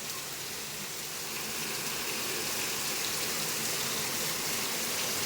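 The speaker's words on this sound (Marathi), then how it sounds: "पाऊस बघा भरपूर पडतोय" Steady, dense hiss of heavy rain falling outside in Nalasopara, broadband and continuous, growing slightly louder through the clip with no voices.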